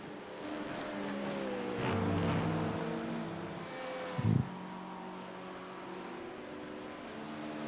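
Race cars at Le Mans brake hard into the Ford chicane, engines droning loud and close with shifting pitch, swelling and then giving a brief sharp burst before settling into a steadier roar.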